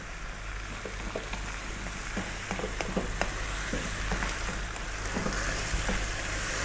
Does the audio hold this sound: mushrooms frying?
yes